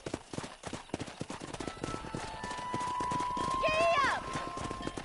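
Hooves clatter rapidly from a galloping horse in Red Dead Redemption, fast and fairly close, overlaid by a steady game music tone and a brief whinny near the end.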